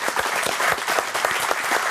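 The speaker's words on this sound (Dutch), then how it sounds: "geef me een applaus" A burst of enthusiastic applause from a studio audience on a Dutch sports TV show, dense clapping that stays loud and steady for a couple of seconds.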